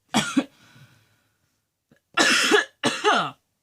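Three separate coughs, close and loud, the first alone and the last two coming in quick succession after a short pause.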